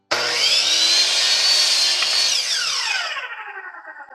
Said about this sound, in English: So I'm going to use a miter saw